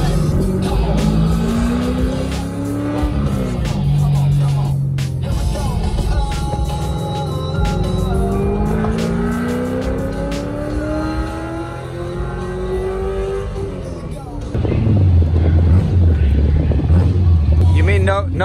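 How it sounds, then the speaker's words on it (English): Many Corvettes on a parade lap at Circuit of the Americas, engines droning and rising in pitch as they accelerate, then a deeper, louder rumble swells near the end; continuous close engine noise throughout. "We're about to do a parade lap with over 300 Corvettes."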